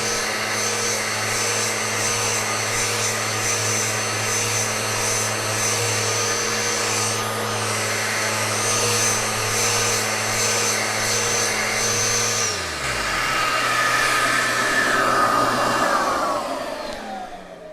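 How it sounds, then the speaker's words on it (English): A power sander runs along the gelcoat edges of a Sunfish sailboat hull, giving a loud steady motor whine that shifts in pitch and drops partway through as the tool winds down. "I'm going to take the sander and I'm going to roll it over those edges quickly"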